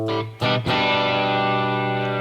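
Les Paul electric guitar with the volume rolled back for a clean tone, a few picked notes and a chord left ringing and sustaining, with a short gap between attacks, close and alone.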